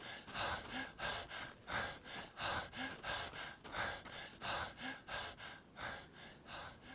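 A video game character in an Unreal Engine 5 residential area pants heavily from sprinting, with steady, rhythmic in-and-out breaths repeating about ten times at an even, fairly loud level.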